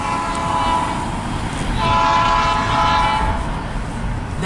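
Illinois Central freight train passing nearby with sustained horn blasts over the rolling rumble and rattle of rail cars, no voices.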